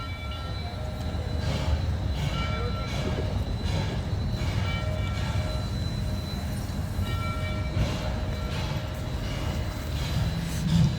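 A locomotive rolls along railroad tracks, its steady rumble and clattering wheels holding at a constant loudness for the whole stretch, with no voices over it.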